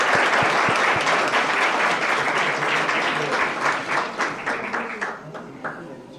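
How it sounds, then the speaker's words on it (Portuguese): Audience applause at a debate on medicinal cannabis use fills the hall loudly from the start, a dense wash of many hands that thins toward the end into scattered, separate claps. "Eu dou uma salva de palmas já para as duas"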